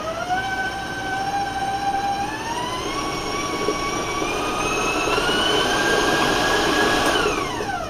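An electric stand mixer runs at a raised speed, beating thick fudge cookie dough; a steady close whine rises in pitch as the speed increases, with no talk.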